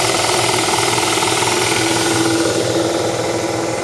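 A 3 horsepower, 220-volt tandem air lift water well pump runs at about 20 PSI, a loud, steady mechanical drone with a rapid rattling pulse that continues unbroken from start to finish.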